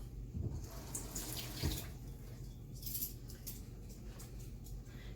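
Running tap water splashes steadily as a tablespoon is rinsed under it, a continuous close hiss of water with a few brief clinks of the spoon against the sink.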